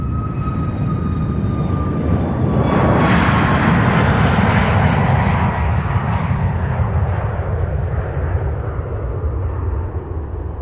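Boeing 737 MAX 8 jet at an airport, a loud, steady roar of jet engines swelling and fading with a whining tone, continuous throughout.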